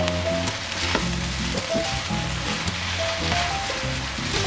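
Glass noodles with carrot leaves and garlic chives being stir-fried, a steady close sizzle with scraping, tossing strokes and faint tonal hum underneath, no talk.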